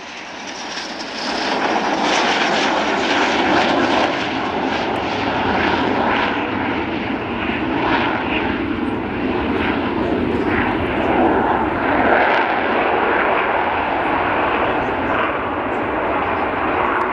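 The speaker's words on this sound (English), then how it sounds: "wait for the sound as those Bristol Olympus engines spool up" An Avro Vulcan B Mk2 bomber on a gear-down flypast at an air show, its Bristol Olympus jet engines spooling up into a loud, sustained roar that holds steady and close for the whole pass.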